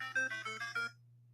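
A cell phone ringtone plays a short bright melodic phrase of several tones, fairly close and clear, then stops, leaving a low steady hum.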